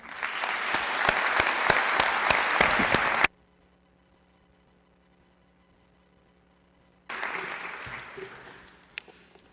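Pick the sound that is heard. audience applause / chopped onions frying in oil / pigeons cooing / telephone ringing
audience applause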